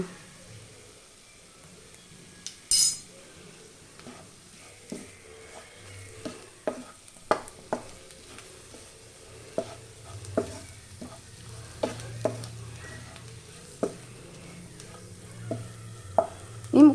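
Chicken kondattam mixture stirred in a pan with a spoon, giving soft scraping clicks at an irregular pace over a faint sizzle, with no talk.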